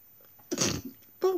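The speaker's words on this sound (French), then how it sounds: "J'éternue." A single sharp, close sneeze bursts out briefly amid quiet indoor surroundings, followed a moment later by a short vocal sound.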